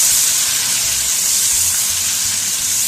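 Mutton pieces roasting in a pot of hot oil, a steady close hiss and sizzle that carries on evenly, with low rumbling underneath and no talking.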